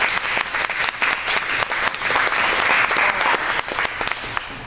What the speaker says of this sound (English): So can we give them a thank you clap?